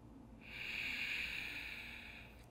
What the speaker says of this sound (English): Breathe through your nose. Deep inhales. Deep exhales.